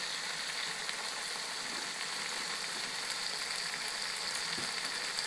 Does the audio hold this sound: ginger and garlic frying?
yes